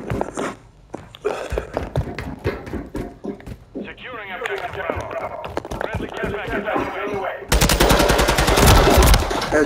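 Rapid gunfire from the Call of Duty game: dense automatic shots pop under steady talking, ending in a loud sustained burst.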